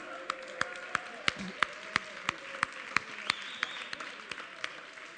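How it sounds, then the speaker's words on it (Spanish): An audience gives a round of applause to congratulate everyone. It comes through as faint, evenly spaced, rhythmic claps in a steady beat, with a soft background of room noise. "Un aplauso para todos"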